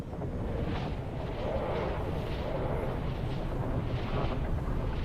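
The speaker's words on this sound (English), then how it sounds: "Was that explosion just right next to me?" A close explosion in Dune Awakening, a heavy rumbling blast that rolls on for several seconds with a roughly steady loudness and no voices over it.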